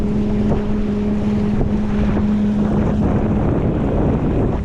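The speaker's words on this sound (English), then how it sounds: "the wind is coming over our stern pushing us" Strong wind blows across the stern of a sailboat running fast in big winds, a steady, close rushing roar of wind noise with no talking.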